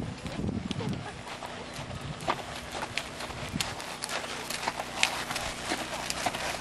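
Faint, irregular clip-clop of hooves on ground, several horses walking at a distance at a horse show, amid soft outdoor background noise.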